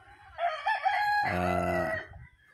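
A rooster crows once up close, a loud harmonic cock-a-doodle-doo rising over a brief clucking start, then fading into quiet.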